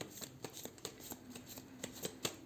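Tarot cards shuffled by hand at close range, a quiet steady run of soft riffling flutters and light taps, with no talking.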